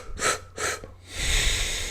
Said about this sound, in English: And then you're exhaling through the nostrils.